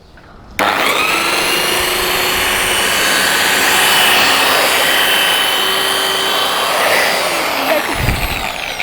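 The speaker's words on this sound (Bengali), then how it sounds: "এই মেশিনটা এটা একটা ওয়াল ক্লিনার মেশিন।" A wall cleaner machine starts up abruptly and runs at a loud, steady whining roar while removing stains from a wall, holding an even motor drone with a brief low thump near the end.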